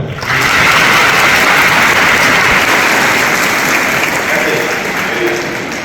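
Loud, close audience applause in a hall during a talk on phone fraud, many hands clapping densely and continuously, slowly easing toward the end.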